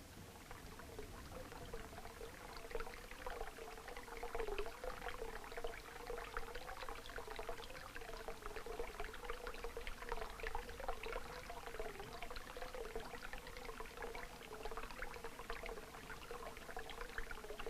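Spring water constantly running into a milk shed on a farm, a steady continuous pouring and trickling flow with a low hum beneath, unbroken and fairly quiet throughout.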